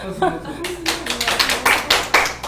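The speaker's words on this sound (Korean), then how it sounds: "박수" Audience clapping at an informal Korean gathering, a few quick bursts of hand claps rising and falling over about two seconds, with a voice talking underneath.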